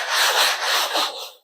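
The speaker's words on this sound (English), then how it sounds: "I'm going to wipe my armrest" A disinfecting Clorox wipe rubbed across a tattoo armrest, a steady close scrubbing swish with a few back-and-forth strokes before it stops, heard alone.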